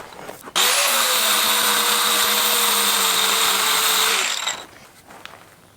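Power tool cutting a small clamshell part clamped in a vise during weed eater handle repairs: a loud, steady high-pitched whine for about four seconds that starts abruptly and winds down at the end.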